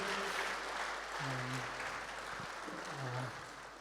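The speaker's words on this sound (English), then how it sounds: "Why don't we give a round of applause for our worship team tonight?" A youth rally crowd applauds the worship team, a broad wash of clapping that fades gradually, with a few faint voices murmuring underneath.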